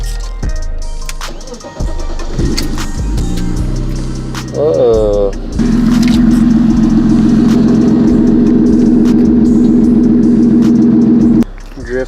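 A BMW E46 drift car cranks and catches, then settles into a steady, loud idle close by; a person exclaims briefly as it fires.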